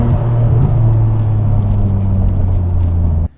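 A Nissan Skyline GTR R34 engine revs and pulls hard, a loud sustained droning roar heard from inside the car that holds steady before cutting off sharply at the end, with no talk.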